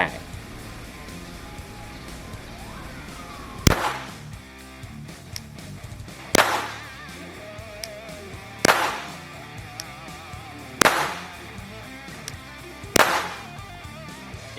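Five sharp, evenly spaced gunshots from a Glock 44 .22LR pistol during test firing, each a loud crack with a brief ringing tail, spread a few seconds apart over steady background noise.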